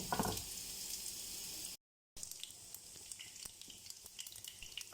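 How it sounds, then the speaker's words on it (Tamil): Mustard seeds with urad dal, a dried red chilli and curry leaves crackling in hot oil for South Indian curd rice tempering, a dense close sizzle broken by one brief dropout, then scattered sharp pops over a softer hiss. "கடுகு பொரியட்டும்."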